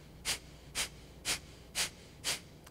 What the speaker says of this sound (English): breathe in these short, quick spurt exhales out our nostrils like this